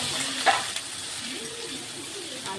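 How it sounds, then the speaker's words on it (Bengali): Potatoes added to a pan of fried spice paste sizzle steadily, with a sharp clatter as they go in and soft stirring scrapes, close and fairly loud, no speech. "এবার আমি আলুটা দিয়ে দিলাম"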